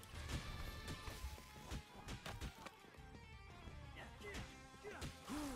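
In the Cobra Kai: The Saga Continues video game, a character is thrown into a trash can, producing a string of loud smashing and thwacking impacts and crashes amid fight sounds.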